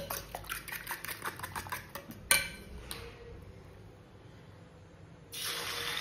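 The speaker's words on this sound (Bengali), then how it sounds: "ফার্স্টে এই বাসনগুলোকে জায়গা মতো রাখবো" Dishes and utensils being set away by a kitchen sink, a run of quick light clinks and taps, then a sharp knock, a quiet pause and a burst of running tap water at the end.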